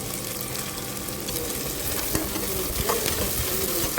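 Green chillies fry for soya chunk biryani, a steady dense sizzle with stirring scrapes, moderately loud and close, with no talking.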